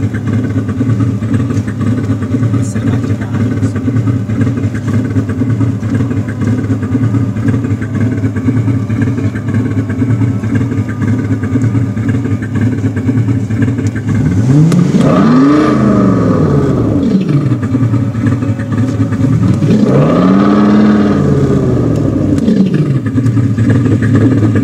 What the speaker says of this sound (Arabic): وهذا محرك الفورد ل8 سلندر